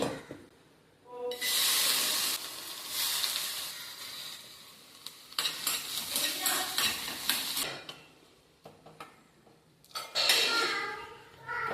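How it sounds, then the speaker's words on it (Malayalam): Dried shrimp fry in a pan in a home kitchen, giving bursts of bright sizzling crackle that come and go as a utensil scrapes and stirs the pan. Quieter gaps fall between the frying bursts. "അപ്പൊ നമുക്ക് ആദ്യം തന്നെ ഈ ഉണക്ക ചെമ്മീനൊന്ന് വറുത്ത് മാറ്റി വെക്കാവേ."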